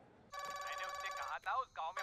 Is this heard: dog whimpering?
no